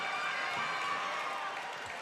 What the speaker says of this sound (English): Mount Pleasant crowd on their field cheering on their team